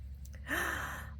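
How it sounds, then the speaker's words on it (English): A single drawn-out yawn inside an RV on a winter trip, close and soft, rising and then trailing off over about half a second with no talk over it. "Oh, good yawn."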